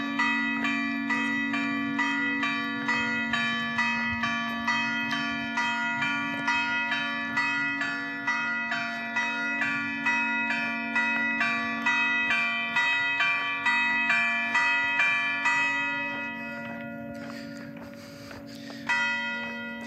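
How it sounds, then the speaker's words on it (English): Village church bells chime for noon, a steady run of bright, ringing strikes with long overlapping decay, loud and continuous, fading toward the end with no talk. "The church chimes for noon"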